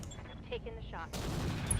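A mech's AC-10 autocannon firing in the BattleTech video game, a heavy blast that erupts partway through and rumbles on loudly, following quieter game sounds and faint voice-like chatter.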